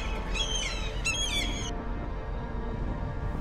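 Two short, harsh gull squawks ring out in quick succession over a steady low background rumble, then the birds fall quiet.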